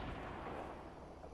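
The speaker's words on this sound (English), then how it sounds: "Just explosions everywhere." Dense, rumbling blasts and booms from explosions in Fortnite blend into a continuous roar, loud and chaotic with no pauses.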